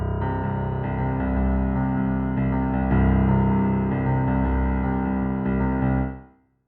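Solo piano plays the intro of a song in a swung, tuplet feel, with steady rhythmic chords over sustained bass notes, close and clear, ringing out at the end.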